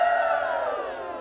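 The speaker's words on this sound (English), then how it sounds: "I hope I actually put in the effort to put like a cheering sound effect there." A cheering crowd sound effect, a brief, loud burst of massed voices shouting and cheering with no one speaking over it.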